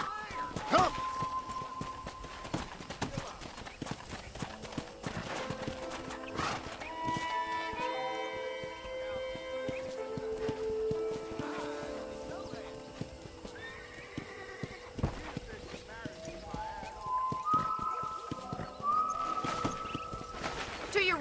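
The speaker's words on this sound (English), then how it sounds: "let's see if you can still ride a horse" Horse hooves clip-clop steadily during a ride in Red Dead Redemption, with whinnies and neighs breaking in, while in-game character voices talk over much of it and music plays beneath.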